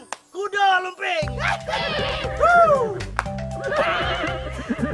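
A cartoon horse neighs in loud, wavering whinnies over busy background music and effects, with voices talking around the neighs.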